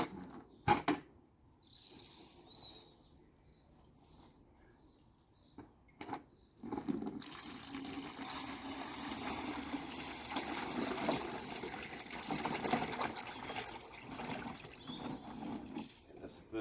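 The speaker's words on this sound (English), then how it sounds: "I'm just going to pour everything into the bucket." Pond water pours and splashes into a bucket during garden pond cleaning, a faint trickle at first, then a sustained rushing pour after a few sharp knocks.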